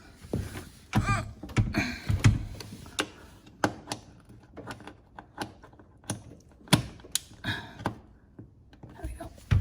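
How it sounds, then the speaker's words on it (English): A classroom printer powering up after being plugged in, with irregular mechanical clicks, ratcheting whirs and short clattering bursts at close range, heard alone. "Let's see if my printer on this floor is even working"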